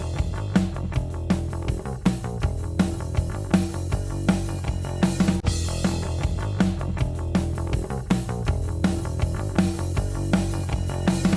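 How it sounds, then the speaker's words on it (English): Full drum mix run through an SSL-style VCA bus compressor, giving a tight, punchy snare; steady, evenly spaced hits over a thick low-end bed, loud and continuous with no talking. "A lot of people say that the SSLs or these type of compressors have a signature kind of thwack kind of sound."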